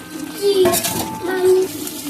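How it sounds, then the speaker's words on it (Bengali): Fried katla fish pieces go into a simmering yogurt curry in a pan, giving two distinct close clinks and soft splashes about a second apart over a quiet kitchen background. "এবারে মাছ ভাজাগুলো দিয়ে দেবো এটাতে"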